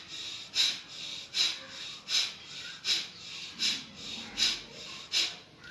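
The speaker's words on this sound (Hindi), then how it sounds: "ये है भस्त्रिका प्राणायाम।" Forceful, rhythmic breaths pumped in and out through the nose during bhastrika pranayama (bellows breathing), about eight sharp even bursts in a steady bellows-like pattern, close and alone.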